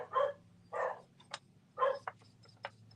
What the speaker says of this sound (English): A motorcycle went by and my dogs decided to start barking.